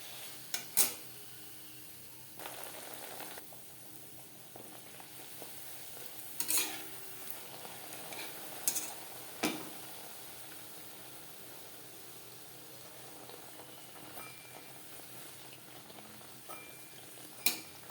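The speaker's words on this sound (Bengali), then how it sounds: "নানপুরি আমি ভেজে নিয়েছি" Nan puri deep-frying in a wok of hot oil gives a faint, steady sizzle, with occasional sharp clinks and scrapes of a utensil against the wok; no talking.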